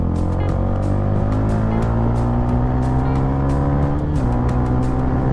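A Yamaha Sniper 155 motorcycle on its stock exhaust pipe rides along with a steady, loud engine drone, the pitch climbing gradually as it accelerates and briefly dipping near the end.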